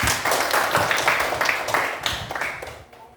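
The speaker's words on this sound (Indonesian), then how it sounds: "Oke, tepuk tangan." A primary school class claps hands together after singing in an Indonesian lesson, a loud dense burst of clapping that fades out at the end.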